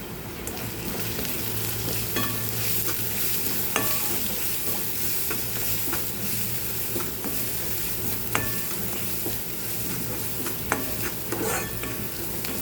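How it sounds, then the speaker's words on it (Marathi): Turmeric, coriander powder and homemade masala frying in hot oil in a pan, a loud continuous sizzle broken by sharp scraping stirs of a spatula at irregular intervals. "म्हणजे मसाले पण चांगले परततील"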